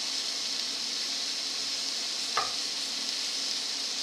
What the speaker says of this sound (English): let me stir this a little bit